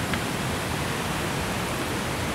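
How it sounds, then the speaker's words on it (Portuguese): Water pouring steadily down a small channel at the Cachoeira da Chave waterfall in Votorantim, a close, constant broadband rush with no pauses and no voices. "aqui é uma caída de água também"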